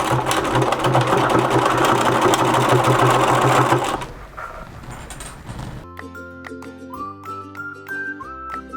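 A domestic sewing machine fitted with a twin needle stitches a test hem in a fast, steady, close mechanical chatter for about four seconds, then stops, leaving quieter background noise and later some soft music.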